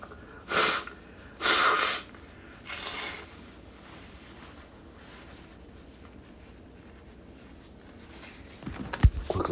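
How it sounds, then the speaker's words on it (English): A few short, forceful nasal blasts of someone blowing their nose, then quiet room tone and a faint clatter at the end. "Let me blow my nose."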